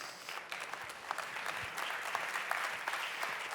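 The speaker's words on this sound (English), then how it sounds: "A big applause," Audience applause at a tech conference as a speaker is called on stage, a steady wash of many hands clapping at moderate distance, continuous throughout with no voices over it.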